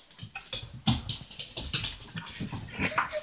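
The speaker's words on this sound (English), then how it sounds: "Chaotic puppies on the loose." Loose puppies whimper and yip indoors in a rapid, uneven string of short, high cries and squeaks, close and fairly loud, with no talk over them.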